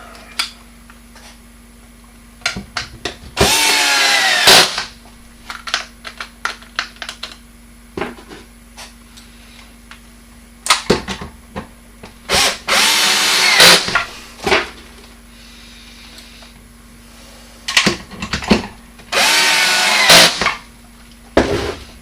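Power screwdriver driving screws while reassembling an LCSU4 vacuum pump: three loud, sustained whirring bursts of about a second or more each, separated by scattered clicks and handling knocks, with no talking.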